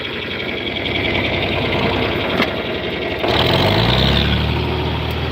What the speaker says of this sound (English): Thing sounds good once you get it running.